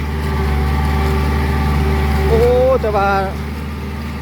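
A Kubota L-5018 tractor engine runs in a Lao paddy field with a steady, loud low drone that briefly shifts pitch near the end, while someone talks over it.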